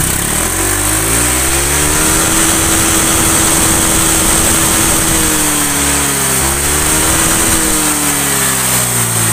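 A Honda Vario scooter with a radiator coolant circulation fault starts and revs, its engine rising and falling in pitch over steady loud mechanical noise, with no talk.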